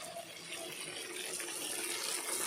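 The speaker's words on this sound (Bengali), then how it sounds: "এবার সেদ্ধের জন্য সামান্য একটু জল দেব।" Water is poured into a pot of marinated meat for boiling, a soft, steady splashing gush that rises slightly over a couple of seconds with no voices.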